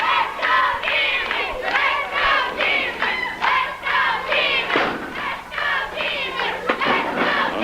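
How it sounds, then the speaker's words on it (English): A 1980 NWA Championship Wrestling arena crowd chants in a steady rhythmic cheer for Jimmy, a loud repeated group shout with a few thuds mixed in. "Let's go, Jimmy, says the cheering section."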